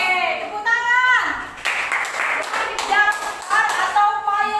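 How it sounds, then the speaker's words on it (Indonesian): Schoolchildren in a classroom clapping hands together in short rhythmic bursts, a few seconds of bright near claps broken by children's voices and chatter between the rounds. "Oke, tepuk tangan."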